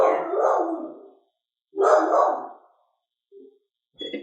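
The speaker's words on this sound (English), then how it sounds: "So I guess she is dealing with the dog, Cali." Dog barking in two loud, close bursts separated by a pause, followed by a short yip and the start of another bark.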